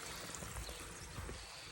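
Water mixed with dish soap is flushed through the fertilizer system of a corn planter, making a steady, fairly loud rushing pour that runs unbroken from start to finish.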